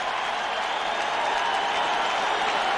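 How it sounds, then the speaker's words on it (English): A stadium crowd at a 1999 Redskins at Cowboys football game cheers as Deion Sanders returns to the field, a broad, steady roar of noise sustained throughout the moment. "That cheer that you hear is for Deion Sanders coming back in the field."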